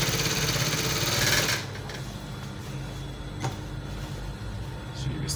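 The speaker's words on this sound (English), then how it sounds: "I'm going to start stitching this way" A sewing machine stitches a V neckline with a steady, fast mechanical whir for about a second and a half, then stops, leaving quiet handling noises.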